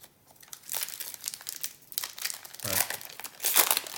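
Close crinkling and crumpling of aluminium foil comes in several rustling bursts, fairly quiet, with brief louder crunches near the end.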